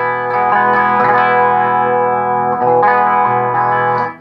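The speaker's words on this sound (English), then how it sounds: "that's the modulation turned all the way up" An electric guitar runs through a Jamtastik pedal with the modulation set fully up, giving a loud, wavering, chorus-like tone as a few chords are strummed and left to ring, close and without talk.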